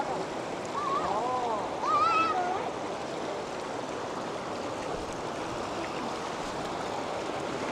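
Steady, broadband rush of the Nikas stream in Birendranagar, Surkhet, as people wade across it, the water close and loud throughout, with brief voices calling out early on.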